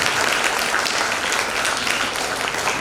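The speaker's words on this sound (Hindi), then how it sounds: "एक बार तालियां बजाएंगे हम सब टीचर के लिए" Steady, dense applause from an audience at a school event for a teacher, sustained throughout without pause, with no voices standing out.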